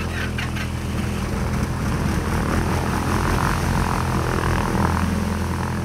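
Steady droning hum of a specially equipped propeller aircraft flying a bird-count survey over the Baltic Sea coast, a continuous engine and airscrew tone holding even loudness throughout.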